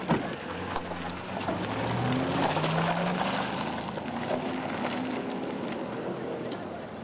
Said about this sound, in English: They're driving fast